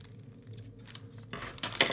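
Scissors trimming the page ends of a handmade traveler's notebook monthly journal, a few close crisp cuts toward the end after a quiet stretch.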